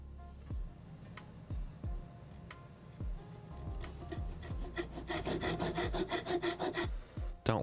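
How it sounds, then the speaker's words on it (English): A file or small saw cuts a slot for a guitar nut in a series of short rasping strokes. Firm knocks sit between the strokes, and a quicker, steadier burst of rasping comes near the end, close by. "that was actually cutting a spot for the nut"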